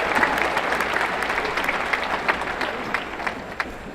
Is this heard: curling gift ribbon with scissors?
no